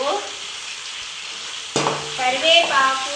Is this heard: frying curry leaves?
yes